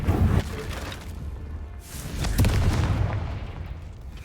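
A deep booming blast from the Confringo explosion spell in the Hogwarts Legacy video game, with a low rumbling burst, a second impact swelling shortly after, then a fading rumble.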